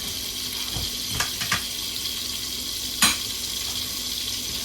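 Butter pats melt into hot bacon grease in a pan, giving a soft, steady sizzle close by with a few sharp clicks and taps of utensils, no voices.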